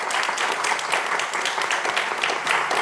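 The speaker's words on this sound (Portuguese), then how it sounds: "gostaria de pedir uma salva de palmas para nossos painelistas." Steady, dense applause from an audience for panelists at a Portuguese-language healthcare industry panel event, continuous and fairly loud without a break.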